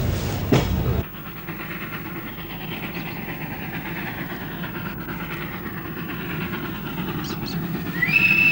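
A train rolls westward through the Balkans, its steady rumbling and rail noise sustained after a sharp sound at the start, with a faint squeal rising near the end.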